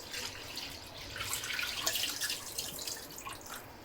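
Goat intestines being rinsed by hand in plain water, with steady splashing and trickling close by, bright drips and sloshes running throughout with no one talking.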